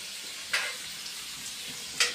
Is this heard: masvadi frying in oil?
yes